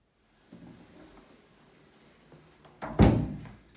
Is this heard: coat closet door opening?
yes